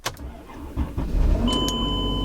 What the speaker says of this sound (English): put the key in the ignition, foot on the brake, crank her up.